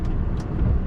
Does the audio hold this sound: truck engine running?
yes